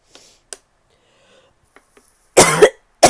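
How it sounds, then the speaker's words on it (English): A few small sounds, then two harsh, loud coughs close to the microphone near the end, the second cut off. "this cough is fucked."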